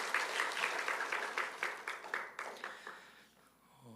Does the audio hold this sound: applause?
yes